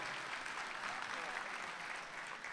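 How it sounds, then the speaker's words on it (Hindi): Sustained audience applause at an Urdu poetry mushaira in Dubai, a dense even patter of many hands clapping, heard faintly and at a distance, with some speech mixed in. "है आपकी भरपूर तालियां जनाब इरफान सहरा।"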